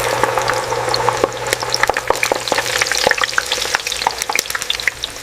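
Potato slices frying in an industrial fryer on a potato chip production line, a dense continuous sizzle crackling with frequent sharp pops and bubbling, loud and close throughout.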